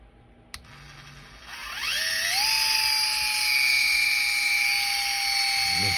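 A freshly reassembled electric fishing reel's motor, on a power test, starts with a click and then spins up into a rising whine that settles into a steady, loud high-pitched hum.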